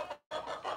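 Backyard chickens clucking close by in short bursts, a brief pause breaking the sound before the clucking resumes, with no talking.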